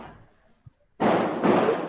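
Firecrackers go off close by during an online call, two sharp, loud bursts in quick succession after a near-silent stretch, each with a crackling, noisy tail.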